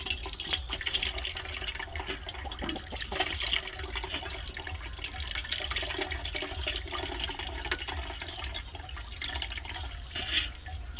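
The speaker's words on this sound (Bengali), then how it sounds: "এবার একটু ঠান্ডা জল দিয়ে এটাকে ধুয়ে নেব" Cold water running steadily over freshly strained chhana (cottage cheese) in a strainer while making rasmalai, a soft continuous splashing wash with no talking.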